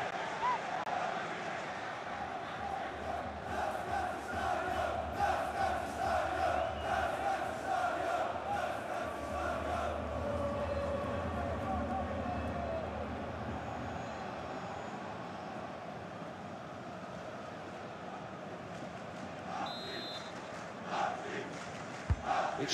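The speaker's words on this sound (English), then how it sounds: "the crowd indulging in the Mexican wave" A stadium crowd doing a Mexican wave in the FIFA 19 video game, Switzerland against Belgium, a broad sustained roar that swells and fades over twenty seconds, with commentary heard over it.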